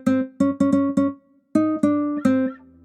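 Nylon string guitar plugin from Expand in FL Studio plays a dancehall melody: a run of plucked notes in quick bursts, a short pause, then more plucked notes ringing out, close and clear with no voices.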